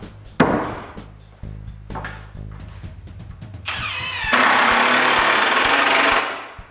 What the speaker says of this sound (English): Then I screw them on top of each other.